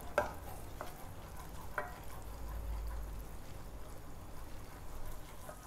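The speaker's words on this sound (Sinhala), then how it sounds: "දැන් අපි මිනිත්තුවක් විතර මේ බටර් ටිකයි පිටි ටිකයි උයා ගත්තා" Butter and flour cooking together in a pan for a white sauce, a soft, low sizzle with faint stirring scrapes and a couple of light utensil taps, close and quiet.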